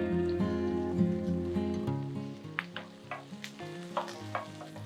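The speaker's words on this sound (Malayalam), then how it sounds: "ഇതിലേക്ക് നമുക്ക് കുറച്ച് കറിവേപ്പിലയും കൂടി ആഡ് ചെയ്യാം." Curry leaves and green chillies sauté in a pan for a chicken and potato curry with a soft sizzle, joined by sharp stirring scrapes and taps over a steady hum.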